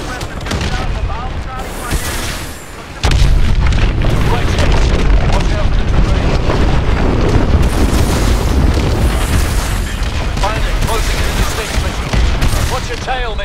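Missile strikes and explosions in Call of Duty: Advanced Warfare, a dense roar of booms and gunfire that surges loud after a brief lull and rumbles on continuously under voices and game music.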